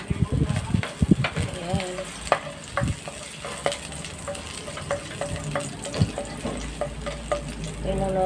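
Garlic frying in cooking oil for sautéed snow peas, a close, busy crackling sizzle with spoon scrapes against the pan and a voice talking over it.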